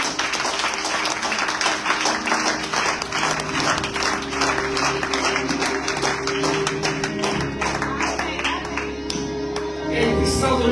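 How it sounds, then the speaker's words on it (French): A church congregation applauds and cheers, dense sustained clapping with shouts rising steadily and continuing throughout, loud and close. "Est-ce que tu peux acclamer que je vois un peu?"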